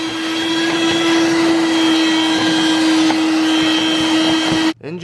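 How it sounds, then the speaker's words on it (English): A steady, loud vacuum cleaner drones continuously while sucking up dirt in a C5 Corvette engine bay, then cuts off abruptly near the end. "I've got this vacuum right here, which is really cool because I can just suck up all this"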